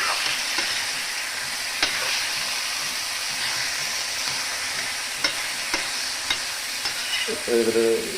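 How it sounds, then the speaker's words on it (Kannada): Chicken sukka frying in oil in a pan while being stirred, a steady close sizzle with occasional scraping clicks of the spoon and a brief louder burst near the end, no talk. "ಸೊ ಎಣ್ಣೆ ಹಾಕಿದ ನಂತರ ಇದನ್ನ ಚೆನ್ನಾಗಿ ತಿರುಗಿಸಿ"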